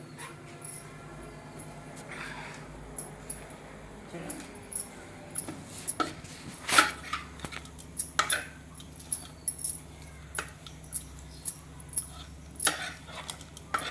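Metal spoon clinking and scraping against a pan while a tempering is stirred for Rayalaseema upma, sharp irregular taps growing more frequent toward the end, with a voice talking underneath.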